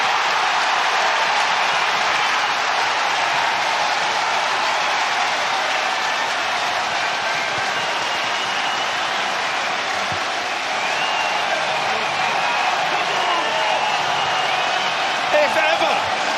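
A rugby stadium crowd at Leicester Tigers v Leinster in the Champions Cup erupts after a run, a loud, unbroken roar of cheering and applause sustained throughout, with a few sharp bursts near the end.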